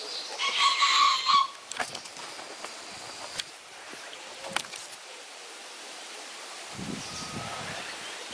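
Young geese give a short run of high peeping chirps at the start, followed by rustling and scattered soft thumps nearby.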